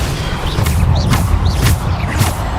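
Depulso force spells are cast in the Hogwarts Legacy video game during a fight: three or four sharp whooshing bursts in a steady rhythm over a loud, rumbling low background.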